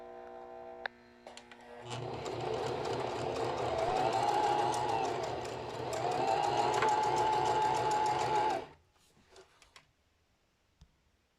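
A sewing machine runs a zigzag stitch along lace in one continuous whirring, rapidly ticking stretch of several seconds, close and steady, then stops, leaving faint handling noises.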